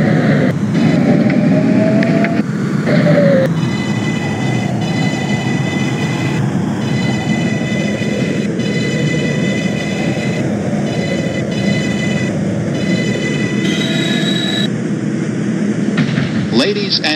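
A New York subway local on the Pelham line toward Brooklyn Bridge, simulated in OpenBVE, rumbles steadily with faint wheel squeals and tonal motor whine, loud and continuous, with a voice speaking over it.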